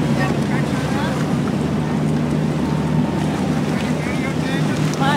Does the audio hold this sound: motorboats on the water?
yes